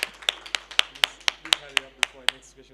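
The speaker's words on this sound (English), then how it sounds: "Should we give you another round of applause?" A few pairs of hands clap in a steady, evenly spaced rhythm, roughly four claps a second, at a National Science Week webinar session at NWU Mafikeng. The claps are crisp and close, with faint room sound between them.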